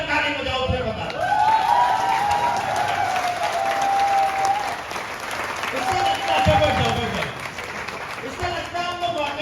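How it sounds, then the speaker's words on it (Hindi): An indoor audience stands and claps together, a sustained wash of applause heard close, with a voice speaking over it before the clapping fades. "एक बार खड़े होकर ताली बजाओ"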